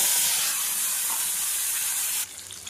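Spice paste poured into hot oil with black cumin, a loud close sizzle and hiss that holds steady, then drops off sharply near the end.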